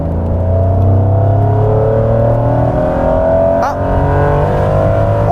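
The engine of a Honda NSX with VTEC revs hard under acceleration, a loud, dense roar with steadily climbing tones and a short gear-change dip, heard from inside the car while a man exclaims briefly.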